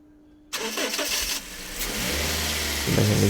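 A Toyota Hiace TRH-200 van's engine cranks and catches after a brief quiet moment, then settles into a steady, loud, close idle with a slight rise near the end; no one speaks.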